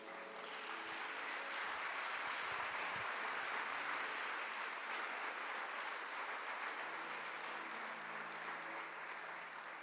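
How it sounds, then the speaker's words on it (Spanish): Church congregation applauding during a Spanish-language sermon, a steady, dense wash of clapping that fills the room evenly for several seconds, heard from a distance and fairly faint. "Den un aplauso al Señor"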